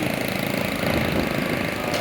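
Motorbikes run at night in Pursat with a steady, moderately loud mid-pitched engine drone and no voices.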